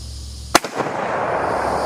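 A single sharp hunting rifle shot fired at a downrange target outdoors, a loud crack followed by a brief echoing tail.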